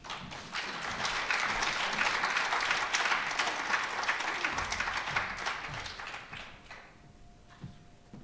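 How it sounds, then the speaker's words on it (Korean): An audience at a Korean church gathering applauds to welcome a pastor to the stage, dense sustained clapping that fades out near the end, leaving a quiet room. "박수로 맞이해 주십시오"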